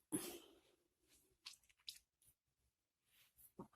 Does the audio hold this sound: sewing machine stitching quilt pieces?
no